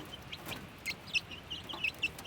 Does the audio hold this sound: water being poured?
no